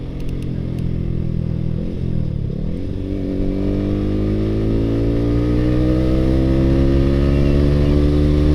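A motorcycle with a 3tech Ronin Hanzo exhaust in silent mode idles and revs steadily with a deep, fairly muted exhaust drone, close by and continuous.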